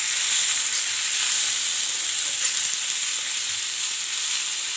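Tomatoes and cashews frying in a pan for a dhaba-style butter chicken gravy, giving a steady, bright, continuous sizzle with no voices.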